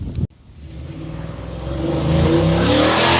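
A Ford F-150 Tremor pickup truck revs and accelerates hard, its engine note climbing steadily and growing louder after a brief cut, close and alone without talk.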